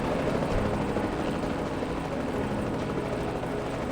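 A helicopter hovers in a game scene, its steady, dense rotor and engine roar filling the whole stretch at constant loudness with no talk.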